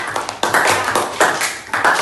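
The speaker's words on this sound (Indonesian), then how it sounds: "Ya, betul sekali, tepuk tangan." A class clapping hands in a Quranic study lesson, short bursts of claps in a quick rhythmic pattern, fairly close and with no talk over them.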